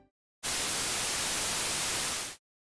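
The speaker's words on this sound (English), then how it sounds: "we'll be using white noise, which contains every frequencies at once from 20 Hz to 20 kHz" Synthesized white noise spanning the full 20 Hz to 20 kHz range, a single steady broadband hiss that starts abruptly, holds at constant level for about two seconds, then cuts off into silence.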